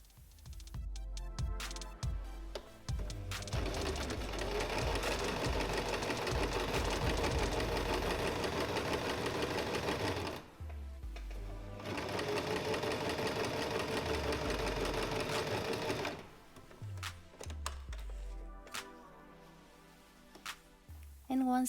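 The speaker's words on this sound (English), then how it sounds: "on the wrong side we'll sew along the two edges we were left with" A sewing machine stitching along seam edges, bursts of fast rhythmic whirring and clatter broken by short pauses, close and steady, with faint low knocks between runs.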